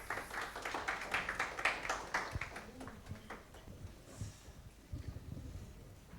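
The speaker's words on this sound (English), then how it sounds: "Please give them a round of applause." A conference audience applauds a panel on sustainable cooling financing, a burst of clapping that swells early then thins to scattered claps as it fades out.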